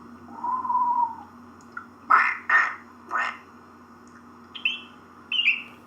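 A human voice imitates birds: a held whistle-like tone, then several sharp chirps and brief high tweets, loud and close in a quiet room, with no speech between them.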